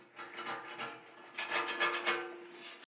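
Old plumber's putty is scraped off a cast iron sink in short, rasping strokes, a few close scrubbing passes with a brief pause between bursts.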